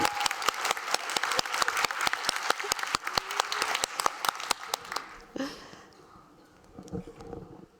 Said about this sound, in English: Applause meter up, please.